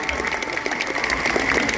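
Crowd applause for a cosplay performance at the Japan Expo 2024 Amazing Cosplay Show, brisk clapping from a big audience in an event hall, steady and fairly loud, with some shouting mixed in.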